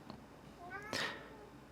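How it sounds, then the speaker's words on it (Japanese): A cat gives a single rising, tonal meow that ends in a brief, breathy louder burst, heard faintly in a quiet indoor room. "猫が鳴いてる。"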